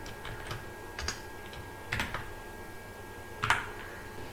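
Light typing on a computer keyboard, scattered soft key clicks in short irregular clusters, fairly close and alone with no talk.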